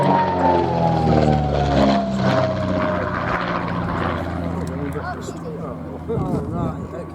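A vintage military aircraft at the Shuttleworth airshow drones steadily overhead with a loud, sustained propeller engine note that slowly falls in pitch as it passes, staying strong throughout with someone talking over it.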